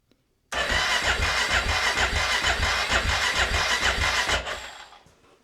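A Husqvarna TE610E motorcycle fitted with a Keihin FCR carburetor starts after rebuild, a sudden loud close engine roar that runs steadily for about four seconds before cutting off.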